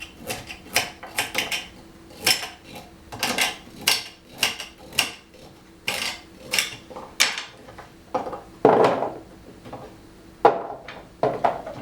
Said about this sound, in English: So the carrots I usually just chop in little pieces like that.